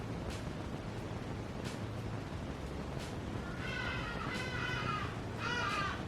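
Harsh bird calls, crow-like caws, ring out a few times in the second half over steady low background noise, moderately close.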